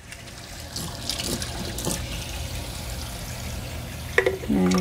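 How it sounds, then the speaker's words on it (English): Two tablespoons of water pour into a salad dressing in a kitchen, a soft continuous trickle and splash close by, ending with a brief clink. "we'll add in 2 tablespoons of water"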